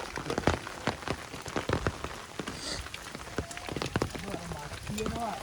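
Steady rain patters and drips on a surface on Hulangala hill in Matale, with scattered louder drops close by and faint voices now and then in the background.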